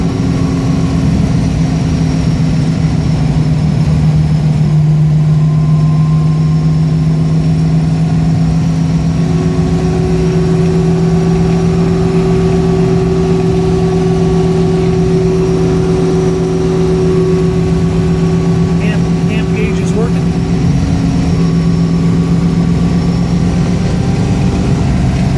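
A 1967 Shelby GT350 engine drones steadily and loudly from inside the car on a country two-track road, a sustained low hum with slight shifts in pitch and no speech.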